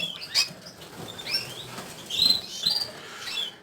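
Young canaries flutter around an aviary, with soft, quick wing flaps and brief patters mixed with scattered high chirps, faint and close, with no talk.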